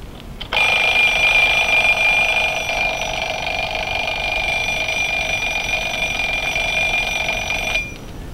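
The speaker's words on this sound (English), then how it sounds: "And then there are alarm clocks." A mechanical alarm clock rings loudly and continuously for about seven seconds, a steady bright metallic bell clatter that starts abruptly and cuts off cleanly, with no talking.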